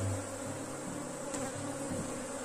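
Honey bees buzz densely around an open beehive during inspection, a steady close drone with individual bees flitting past the microphone and a low background hum.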